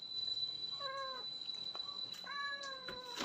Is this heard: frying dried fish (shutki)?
no